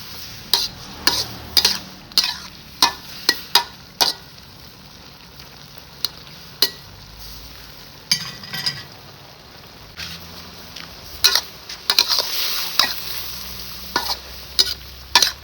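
Long eggplant and Chinese sausage are stir-fried in a pan, with a steady sizzle under repeated sharp scrapes and clacks of a utensil in a loose rhythm, close up.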